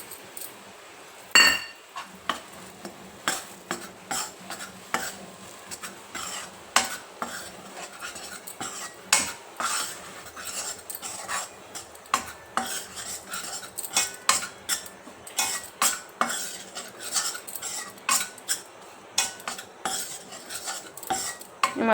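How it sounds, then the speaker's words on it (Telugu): Wheat flour roasting in ghee in a pan, stirred with a metal spoon that scrapes and clinks against the pan in frequent irregular strokes, close and fairly loud with no talk. "గోల్డెన్ బ్రౌన్ కలర్కి వచ్చేదాకా ఫ్రై చేసుకోవాలి"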